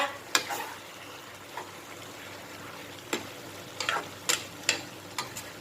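Eggplant and pork stir-fried in a small pan over a gas stove, with faint background sizzle broken by irregular sharp scraping knocks of the spatula against the pan.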